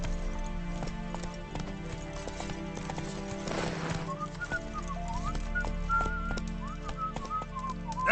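A horse gallops in The Witcher 3 video game, rapid rhythmic hoof clip-clops close by over game music with a whistled melody.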